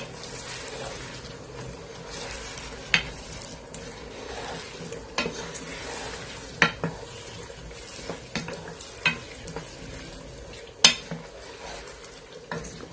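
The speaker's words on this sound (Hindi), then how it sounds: "एक मिनट के लिए मैंने हल्का सा फ्राई किया है तमाम मसालों को छोलों के साथ" Chickpeas cooking with a mix of spices in a pan for spicy chickpea pulao, giving a steady close sizzle and frying hiss, with a spoon scraping and clinking against the pan at irregular moments.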